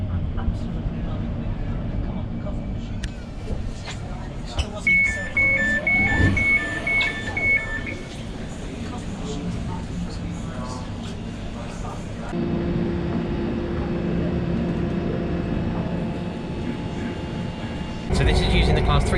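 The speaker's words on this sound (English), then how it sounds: "So this is using the class 345 trains" An Elizabeth line Class 345 electric train runs on London's new railway with a steady close rumble and rising motor whine, a two-tone chime partway through, and louder running noise in the later stretch.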